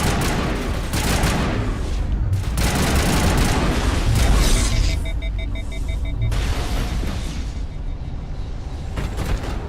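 Sustained gunfire in Mass Effect, dense overlapping bursts of automatic shots and booms that stay loud almost throughout, with only brief drops in intensity.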